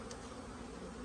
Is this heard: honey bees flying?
yes